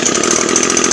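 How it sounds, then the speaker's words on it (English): An Echo SRM 2320T string trimmer's small two-stroke engine runs loud and close after starting, a buzzy, steady drone with no voices. "There we go. Just gonna let this idle for a minute."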